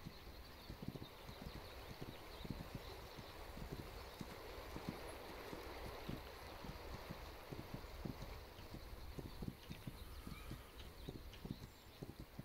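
Steady clip-clop of horse hooves at a trotting rhythm in the video game This Land Is My Land, fairly quiet, with a soft wind-like hiss underneath and no talking.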